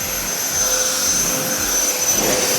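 A car-wash jet fan blower at speed settings two to four: a steady, loud jet-like roar with a thin high-pitched whine riding on top, continuous and unbroken throughout.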